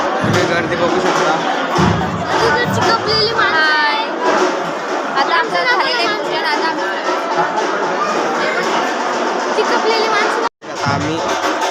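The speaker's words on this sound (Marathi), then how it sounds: "तुम्ही गर्दी बघू शकता." A dense crowd chatters at close range while people travel, with many overlapping voices and children's shouts forming a steady, loud babble that drops out for a moment near the end.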